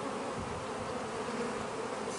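Honey bees swarming over an opened hive during a queen swap, a dense, continuous buzzing drone that fills the space close by and stays steady with no talk.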